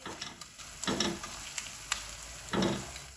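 Ginger garlic paste lands in a pan with soft onions over low heat, giving a close, moderate sizzle with scraping stir strokes and a few clicks, swelling in short bursts and heard without talk.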